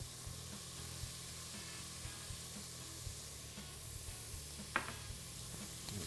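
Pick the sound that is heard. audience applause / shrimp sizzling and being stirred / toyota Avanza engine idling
shrimp sizzling and being stirred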